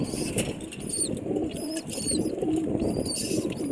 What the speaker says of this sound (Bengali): দেখেন কীভাবে ডাকবে নর কবুতরটা